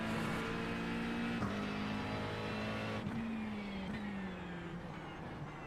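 A race car engine in a racing sim at Sebring drones steadily near and loud, its pitch stepping down with gear shifts around two points before settling lower as the car eases off, with no talk over it.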